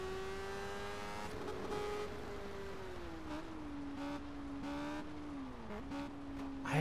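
A car engine in the Test Drive Unlimited video game holds a steady, loud drone, with its pitch wavering and dipping briefly as it gathers speed, no talking.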